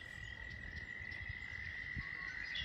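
A steady chorus of toads trills continuously at moderate distance, a constant high drone over faint low rumble, with no voices.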